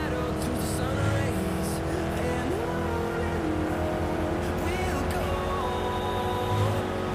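A car driving at speed on a highway, with a continuous engine drone and road rumble throughout, plus shifting tonal whines and people talking over it inside the cabin.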